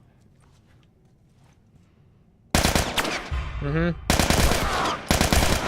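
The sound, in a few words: gunfire in the video game The Last of Us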